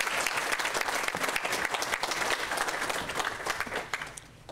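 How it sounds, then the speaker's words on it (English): Applause at an elected women's luncheon for Nancy Skinner's introduction: a fairly quiet, dense patter of many hands clapping at once, steady before tapering off near the end. "applaud and put our hands together for"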